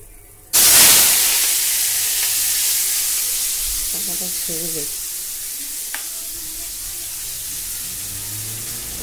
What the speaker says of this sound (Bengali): এসে এই যে কাঁকরোলটা ভেজে নেবো, তাই তেলের পরে কালো জিরে দিয়ে দিয়েছি।